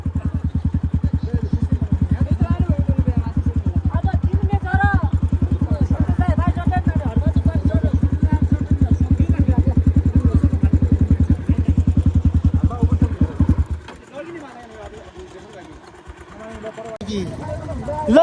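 A motorcycle rides a mountain road in Dolpa near Balangra Lek, its engine a loud, steady close-up throb that suddenly drops away near the end, with people talking over it.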